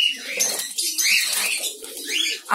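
Doves on a Bangladeshi bird farm, sitting with their chicks, give soft repeated coos mixed with brighter chirps, close by and fairly steady, with a brief flutter of wings.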